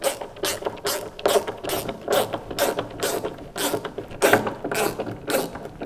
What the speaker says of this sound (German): wir schrauben die jetzt einfach mal hier ins Holz rein und gucken, ob das funktioniert